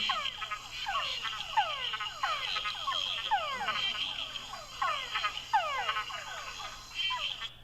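A túngara frog gives its mating call repeatedly in a steady series of descending whine-like notes, each followed by short clucks, clear and fairly close.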